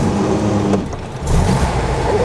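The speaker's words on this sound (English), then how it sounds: "Oh, I started it without the clutch down too" A 1957 Volkswagen Beetle fitted with twin turbos starts up with the clutch not pressed; an idle hum is followed by a brief pause, then the engine catches and rumbles loudly up close inside a garage.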